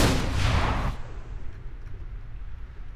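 A burst of gunfire in the Mirror's Edge video game, loud and booming for about a second before it cuts off into a low rumbling tail.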